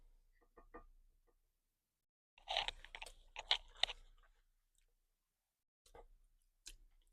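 Someone chewing a mouthful of red beans and rice, with crunchy bites in short bursts separated by silent pauses, very close and quiet.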